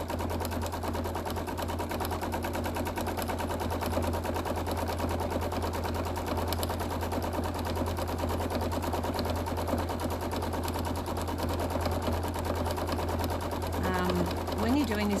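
Rapid, even needle chatter from a sewing machine during free-motion micro stippling on a quilt, a continuous fast mechanical patter at moderate level running unbroken under a low steady hum.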